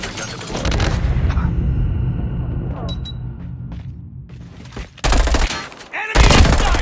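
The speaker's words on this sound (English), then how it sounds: "Sentry gun deployed." Sustained automatic fire from a deployed sentry gun in a Call of Duty multiplayer match, dense and loud in the opening seconds, thinning into a quieter stretch and then two sharp heavy bursts near the end, with game announcer voice lines in the mix.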